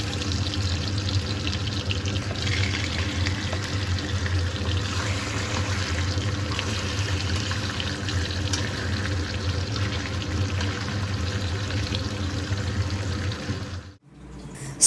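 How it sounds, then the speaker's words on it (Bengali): Pieces of silver carp frying in hot oil in a wok give a steady, dense sizzle that runs unbroken for about fourteen seconds, then cuts off abruptly near the end. "বাকি যে 2 টুকরো সিলভার কাপ মাছ রয়েছে তা একইভাবে ভেজে নেব"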